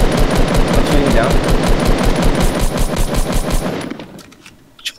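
Rapid automatic gunfire in Fortnite squad play, loud and close, a dense stream of shots that thins and stops near the end, with teammates talking over it.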